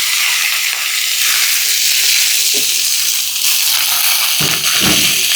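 Chicken pieces for chicken handi sizzle loudly in hot oil, a steady bright frying hiss with occasional scraping knocks of stirring, close and continuous with no talk.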